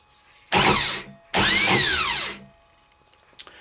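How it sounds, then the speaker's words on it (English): Pre-engaged starter motor bench-tested by touching its lead to a battery's positive terminal: two loud, whining spin-ups, first short then longer, each winding down, followed by small clicks. "And as I strike it onto the battery positive, the starter should turn"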